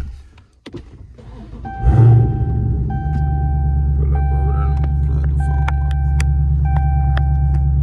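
A car engine rumbles heavily after a thunk near the start, then settles into a loud, steady low drone with faint higher tones, heard up close from inside the vehicle while pulling up in traffic.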